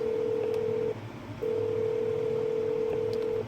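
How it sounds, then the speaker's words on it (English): Telephone ringback tone on a call center line, a steady electronic tone in two long bursts separated by a short gap, loud and clear with no talking. "In the transcription we have just the phone ringing"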